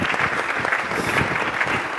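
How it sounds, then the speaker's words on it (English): A sports summit audience claps for athletes, producing dense, steady applause that fills the short stretch without a break. "Let's clap for them."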